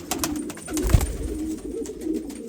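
Kept pigeons calling at their nests in a loft, soft throaty coos repeating close by over a background of shuffling and rustling.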